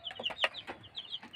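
Young chickens, grown chicks at a home, give a quick run of short, high clucks and chirps, several overlapping calls close by with no talking.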